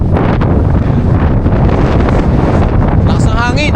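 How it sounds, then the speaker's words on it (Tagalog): Strong wind buffeting the microphone on an open deck at a mountain resort above the sea, a loud constant roar with gusty rumble, and a brief voice near the end. "Lakas ng hangin."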